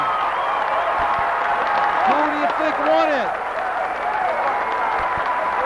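Crowd at an amateur boxing night cheers and applauds after a bout, a steady wash of clapping and shouts with a few whoops, while an announcer talks over it.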